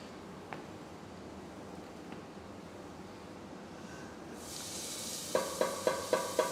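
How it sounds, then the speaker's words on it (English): Faint, steady background sizzle of food frying in a pan for seafood tagliatelle, brightening and growing louder near the end, with a few sharp clinks over the last second. "so you can hear the sound of the sizzling"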